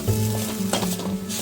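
Tomato masala for a Kerala-style chicken curry sizzles loudly in a pan while being stirred, a continuous close frying hiss with scraping strokes and no talking.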